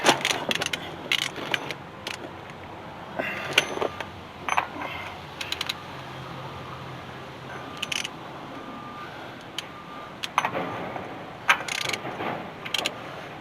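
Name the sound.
socket tightening wheel bearing race on Dodge D600 truck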